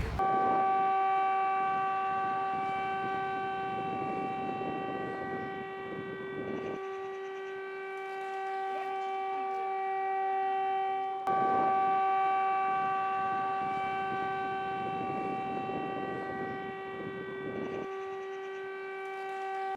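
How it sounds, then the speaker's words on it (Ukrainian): An air raid siren wails across Odesa in wartime, a loud sustained tonal blare that holds steady for the whole stretch, restarting once partway through, with no voices over it. "По приїзду в Одесу мене зустріла повітряна тривога."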